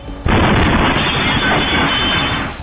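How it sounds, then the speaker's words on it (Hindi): A bomb blast inside a police station in Srinagar at night: an abrupt, loud burst followed by a sustained, heavy roar that fills the whole stretch with no voices. "जम्मू कश्मीर के श्रीनगर में रात करीब 11:22 पर बड़ा धमाका हुआ।"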